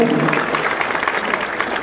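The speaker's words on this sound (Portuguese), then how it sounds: "uma salva de palmas" Dense applause from an audience at a Musician's Day music show, a continuous patter of clapping at close range with no voices over it.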